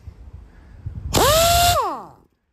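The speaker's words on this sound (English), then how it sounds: "I'm going to have to let my compressor build back up." Air compressor motor starting abruptly after a quiet lead-in, running loudly with a rising whine for under a second, then winding down and stopping into silence.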